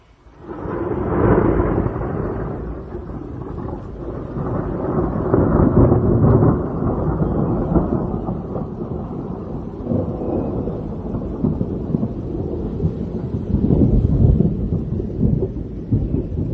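Loud, sustained thunder from a strong supercell thunderstorm over Bordeaux in May, rolling and rumbling continuously with swelling peaks and no voices.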